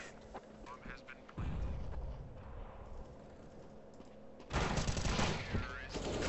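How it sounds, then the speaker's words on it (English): Burst-fire gunshots in Counter-Strike: Global Offensive ring out in rapid clusters amid in-game battle noise, growing louder near the end, with players talking over the action. "He's on burst fire."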